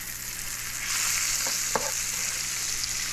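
Trout sizzling and frying steadily in a covered pan at a creekside catch-and-cook, a dense constant crackle heard up close with a couple of brief clicks and no talking.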